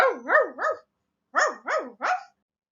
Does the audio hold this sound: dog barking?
yes